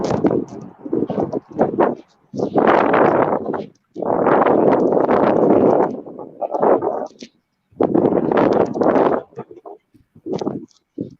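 Gusty wind buffets an outdoor microphone in stormy weather, coming as loud roaring bursts with short gaps between them.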